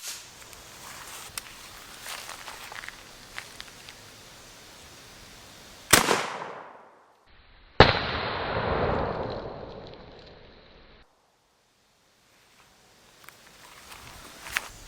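A shotgun loaded with double-aught buckshot fires two loud, sharp outdoor blasts a couple of seconds apart, each followed by a rolling, fading echo, then near silence.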